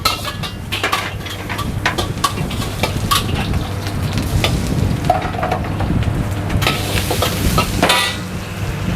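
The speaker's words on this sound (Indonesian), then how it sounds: "Yuk, sekarang gue bakal lanjut bikin nasi goreng kari." Curry fried rice is stir-fried on a high-pressure stove in a busy food stall, with a metal spatula repeatedly clanking and scraping the wok over a loud burner roar, close and rhythmic.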